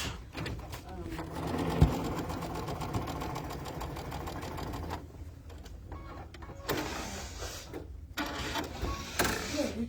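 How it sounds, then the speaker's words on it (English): A sewing machine stitches across both diagonals of a quilt block using a laser guide, running in steady mechanical bursts with brief pauses while someone talks over it. "So I'm stitching across both of these diagonals, and I'm using my laser."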